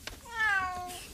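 A cat lets out a single drawn-out meow, close and fairly clear, with a quiet room tone around it.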